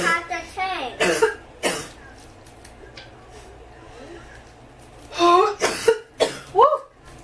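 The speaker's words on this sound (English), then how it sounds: "Why are you coughing?" Coughing fits triggered by seasoning spices while cooking indoors, with sharp coughs near the start and again later, mixed with people talking and a voice.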